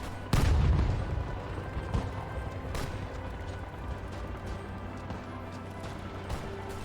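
Battle gunfire sounds in the World War II strategy game Hearts of Iron 4. A heavy boom comes near the start, followed by scattered distant shots and a low rumbling battlefield backdrop.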